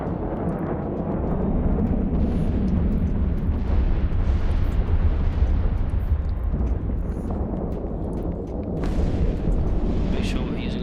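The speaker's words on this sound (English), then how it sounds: "Make sure we're using our cannons." Ship cannons firing during a space battle in EVE Online, a dense continuous rumble of booming blasts and explosions, loud throughout with someone talking over it.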